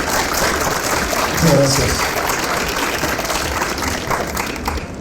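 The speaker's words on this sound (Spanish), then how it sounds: "Un aplauso para el todo." Audience applause at a Spanish-language panel on transnational higher education, steady and dense from start to finish, with a voice briefly thanking the crowd over the clapping.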